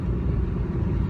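Chrysler PT Cruiser driving on the road, heard from inside the cabin as a loud, steady low engine and road rumble with no break over a short stretch.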